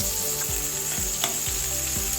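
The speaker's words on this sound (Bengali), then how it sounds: "পেঁয়াজটাকে ভালো করে নেড়ে চেড়ে ভেজে নিচ্ছি" Chopped onions sizzle steadily in hot oil with five-spice seasoning, a constant frying hiss broken by regular scraping strokes of a stirring spatula about every half second, close and alone.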